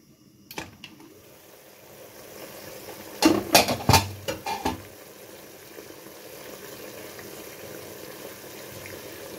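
Beef cooking in a pressure cooker pot is stirred, a few clustered scraping and clinking strokes in the middle over a soft bubbling sizzle, fairly quiet and close with no talking.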